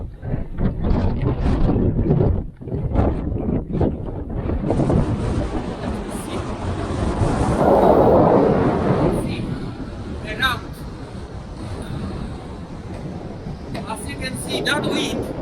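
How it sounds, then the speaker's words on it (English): Strong wind blowing across open moorland on Dartmoor near Chagford, a loud continuous rumbling roar buffeting the microphone, with someone talking over it throughout. "that wind is just a killer"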